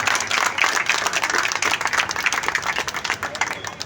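Dense crowd applause at an outdoor political rally greeting MLA Ramvir Singh Bidhuri, a steady wash of many hands clapping for the full stretch, with some voices mixed in.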